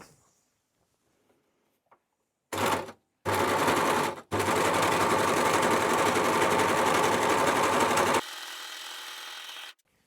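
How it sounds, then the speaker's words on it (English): A basic Janome overlocker runs in loud, steady bursts: two short starts, then a long continuous whirring stitch that drops to a lighter hum before stopping, with no talking. "I've got a really basic Janome overlocker that does me well."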